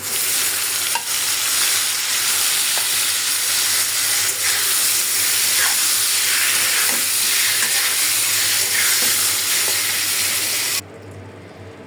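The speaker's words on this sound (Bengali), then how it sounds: "আমার পেঁয়াজটা হয়ে গেছে আমি এখন মশলা মাখানো মাছটা দিয়ে দিলাম" Spice-coated small fish fried in oil with onions, a loud, continuous sizzling hiss close up with occasional scraping stirs, cutting off abruptly near the end.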